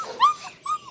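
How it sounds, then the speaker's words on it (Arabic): Malinois puppy whimpering in two short, high-pitched whines, the second softer than the first, close by and quiet with no talk. "فخلينا نلعب مع الكلاب الصغيره"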